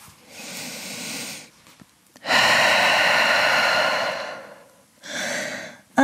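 Deep, slow breaths during a gentle French vinyasa yoga session, with a long, loud airy exhale surging after a soft earlier breath and a shorter breath near the end, close to the mic with no talking.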